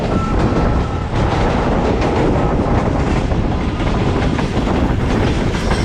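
The Fareed Express train rolling out of Lahore on its rails, a loud continuous rumble with rapid rhythmic clickety-clack of wheels over joints, heard close from inside the carriage without talking.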